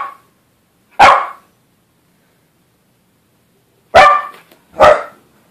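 A dog lets out three sharp, loud barks, one alone and then a quick pair a few seconds later, with silence between them.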